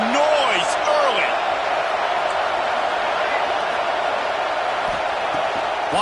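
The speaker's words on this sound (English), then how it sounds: "This crowd bringing the energy and noise early." A big crowd roars at a college football game between Nebraska and UConn, a loud, sustained wash of stadium noise with scattered whoops and shouts rising over it, and voices talking within the din.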